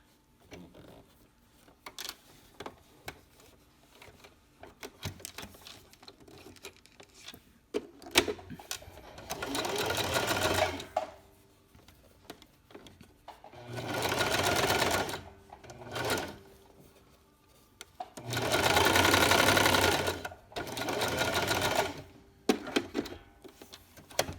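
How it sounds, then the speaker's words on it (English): A sewing machine runs a zigzag stitch on a baby sleeper, sounding in several steady mechanical bursts of a few seconds each, separated by quieter handling clicks and thumps, close and without talk. "run a zigzag right next to where you just did your straight stitch"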